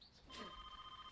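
A mobile phone rings indoors, a faint electronic tone starting partway through and holding steadily, with a brief muffled sound just before it.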